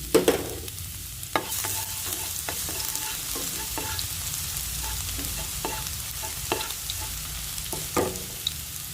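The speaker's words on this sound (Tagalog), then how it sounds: "Gisa ko muna yung bawang." Garlic sautés in oil in a pan, a continuous close sizzle broken by the clicks and scrapes of stirring, with no talking.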